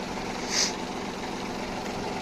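A Kubota Aste A15 tractor engine idles outdoors in a low, steady rumble, fairly faint and continuous, with a brief higher hiss partway through.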